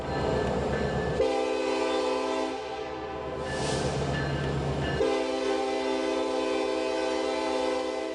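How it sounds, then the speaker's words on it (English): A recorded train horn, played as a stand-in rather than a real locomotive, blares loud and steady for several seconds with layered sustained tones, a brief dip in the middle, then resumes with rumbling rail noise beneath. "I'm going to play a train horn."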